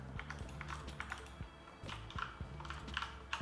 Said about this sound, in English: I'm playing Fortnite with my Corsair gaming keyboard and mouse.